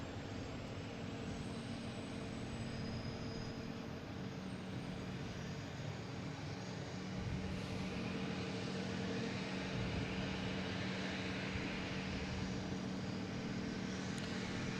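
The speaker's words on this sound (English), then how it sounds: "we have JetBlue coming in from Raleigh-Durham, an A220" A JetBlue Airbus A220 arrives from Raleigh-Durham, a continuous low jet rumble with a faint hum holding at even, moderate loudness, distant and unaccompanied by voices.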